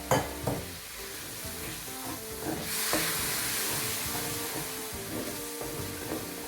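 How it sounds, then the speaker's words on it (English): Steady sizzling and crackling of masala spices frying in hot oil in a pot for mushroom biryani, with occasional scraping clinks of stirring, close up. "After frying the masala for 5 to 6 minutes"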